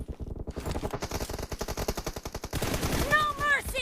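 Rapid automatic gunfire in the battle-royale game PUBG rattles out in a fast, steady burst of close shots, followed by a denser blast of sound with zipping effect tones at the end.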